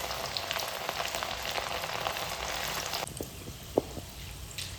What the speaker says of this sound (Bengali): আর একইভাবে আমি বাকি যেই কটা ডাল রয়েছে ভেজে নেব।